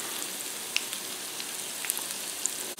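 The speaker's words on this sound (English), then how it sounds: "I'm going to get a nice brown on these. So we'll let these go for a little while." Potatoes for a tuna, potato and olive hash fry in a pan with a steady close sizzle and faint crackling pops, alone and even throughout.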